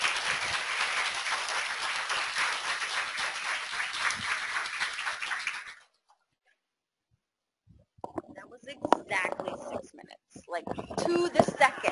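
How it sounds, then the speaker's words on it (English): Audience applause in a hall after a talk, a steady wash of clapping that stops suddenly, followed by silence and then scattered sounds and voices. "Let's give her one more round of applause."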